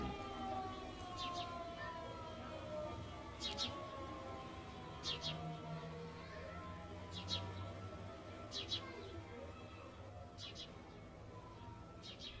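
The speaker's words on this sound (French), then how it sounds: "une sirène annonce le sabbat" A long, steady siren wail announcing the sabbath hangs over a busy outdoor scene in Mea Shearim, with faint bird chirps and distant murmur beneath it.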